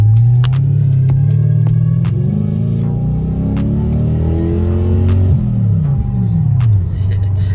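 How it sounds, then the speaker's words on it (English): A car engine runs loudly and close by at a car meet, its deep rumble swelling and easing as the revs climb and drop, with a steady background hum throughout. "I love the sound of my car."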